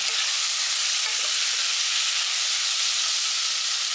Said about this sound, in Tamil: எல்லாமே சேர்த்து நல்லா வதக்கிடுங்க